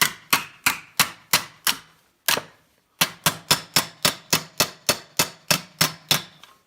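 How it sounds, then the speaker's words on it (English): Hammer striking sheet metal on a small anvil while building rust-repair patch panels for a 1990 Nissan 240SX, a close, loud, ringing series of steady blows with one brief pause. "I'm going to be working on my little anvil here"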